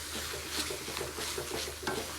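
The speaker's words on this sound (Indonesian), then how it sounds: "Ini aku mau terus aduk sampai dia benar-benar kadar airnya udah dikit banget" Pineapple jam is stirred as it cooks down in a pan. Quiet, repeated scraping strokes sit over a soft bubbling sizzle in a short burst.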